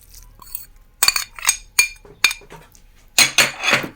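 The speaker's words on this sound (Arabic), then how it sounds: "نبداو نحركوا في الحشو تاعنا" A spoon clinks and scrapes against a pot as chicken and carrot bourek filling is stirred, in a run of sharp, fairly loud metallic knocks, some grouped together, with no speech.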